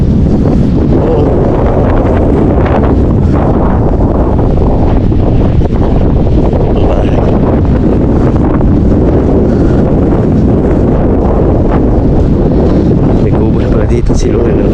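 Strong wind buffets the microphone near a flooded hut by the water, a loud, continuous low roar of rumbling gusts that swamps everything else.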